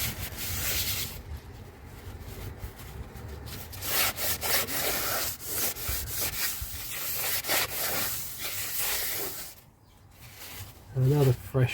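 A cloth wipes residue off a new rear Brembo brake surface on a Nissan 350Z, making repeated close rubbing and scrubbing strokes with a voice heard briefly.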